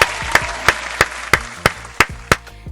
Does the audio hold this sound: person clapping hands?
yes